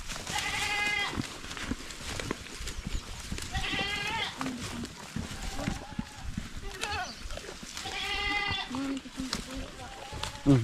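Goats bleat in loud, wavering bursts at a farm after rain, with calls near 0.5, 4 and 8 seconds set among chatter and background bustle; people talk throughout.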